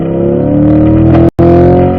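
A car engine roars loudly at high revs with a steady droning tone, cutting out for an instant before resuming at full power.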